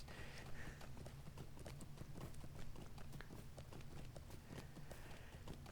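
Horse hooves clip-clop in a quick, steady rhythm throughout, close and continuous over a low rumbling game background.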